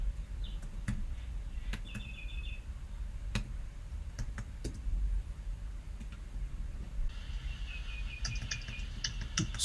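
Computer keyboard clicks sparsely and quietly while code is typed for a Sage math exercise, as scattered single keystrokes over a faint room hum, with a few soft electronic chirps mixed in.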